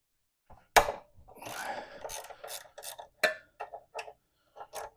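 A wrench loosening 12 mm pinch bolts on the front wheel of a Honda Goldwing 1500, giving irregular clicks, taps and a short ratcheting rasp, close and fairly quiet.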